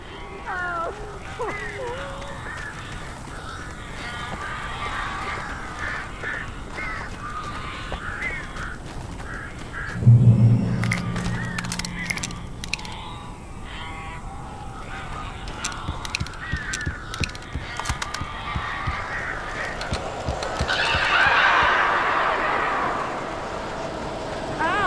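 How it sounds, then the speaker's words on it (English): Birds in the horror game Alan Wake, harsh honking and cawing calls scattered through a tense scene, mostly under ongoing talk, with a louder flurry near the middle. "These birds are weird."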